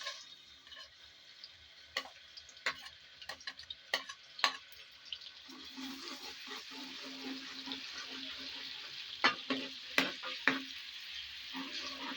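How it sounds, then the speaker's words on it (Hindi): Steady hot-oil sizzle of garlic ginger paste frying in a pan, with scattered clicks and scraping stir sounds, a few sharper pops, no talking. "लहसुन अदरक का पेस्ट डाल देंगे"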